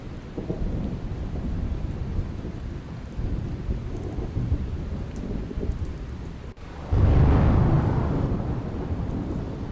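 Heavy downpour in Kamrej taluka near Surat, Gujarat, a steady loud roar of rain broken by a sudden deep rumble of thunder partway through, with no voices.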